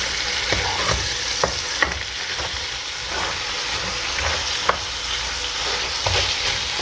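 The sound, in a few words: ossobuco beef sizzling in tomato sauce in pan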